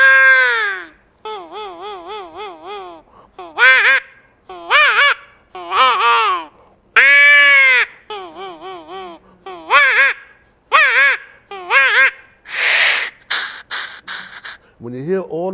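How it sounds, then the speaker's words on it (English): Birds call outdoors in the bush in a series of close, loud, honking, harmonic calls, each one a separate burst with short gaps between. "Listen to the birds. I listen to lots of birds."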